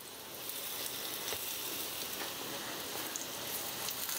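Bread slices coated with coriander, ginger and garlic paste fry in a pan after being flipped to the second side. A steady, even hiss and crackle continues quietly with no pauses, and no voices are heard.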